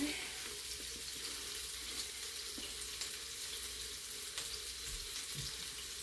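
Fried chicken sizzling in hot oil, a steady quiet hiss with faint crackles and occasional soft pops, no voices over it.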